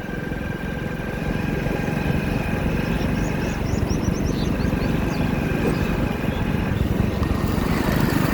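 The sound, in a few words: motorcycle riding on a village road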